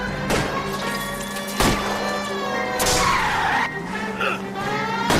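A fleeing company van and pursuing car skid and screech in an LA Noire chase, with repeated sharp tyre squeals and bursts of scraping over a steady engine roar, loud and close, while voices speak briefly.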